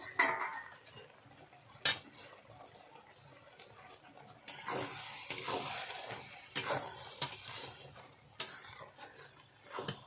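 A pot lid is lifted and handled with clinks and scrapes while spinach cooks with prawns, followed by stirring and a soft sizzle in the pan.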